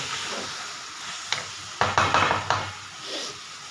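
Matar paneer cooks in a kadai over a soft, low sizzle. Several sharp stirring clanks and scrapes from a spoon against the pan break in near the middle, with no voices.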